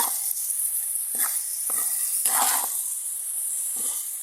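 Shim (flat beans) and vegetables sizzle in a hot pan, a constant hiss broken by several short, louder bursts as the mixture is stirred and tossed, close and clear with no talking.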